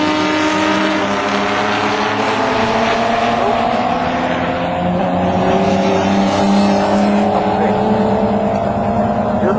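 Jaguar XJS race cars in a Toyo Tyres XJS Championship race at Snetterton circuit cross the start-finish line, a loud continuous engine roar with shifting tones filling the whole stretch, with a commentator talking over it.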